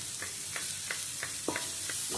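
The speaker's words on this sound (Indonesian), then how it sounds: "Tumis sampai sedikit layu." Chilies sautéing in oil in a frying pan, a steady close sizzle with regular stirring scrapes roughly every third of a second, no talking.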